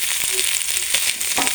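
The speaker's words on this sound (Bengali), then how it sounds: "গাজরটাও ভেজে নেব। বাঁধাকপিটাও দিয়ে দেবো।" Carrot and cabbage fry for chowmein with a loud, continuous hiss and crackle in a hot pan, with brief stirring knocks and no voices.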